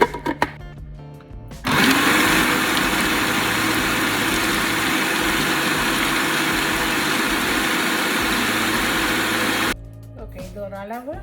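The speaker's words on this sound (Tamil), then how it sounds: "ஸோ இவ்வளவையும் போட்டு நீங்கள் இதை அரைக்கணும்." A mixer grinder whirs loudly and steadily, blending parsley, parmesan cheese, garlic and salt into pesto. It starts abruptly and runs for about eight seconds before cutting off, with brief speech heard before and after.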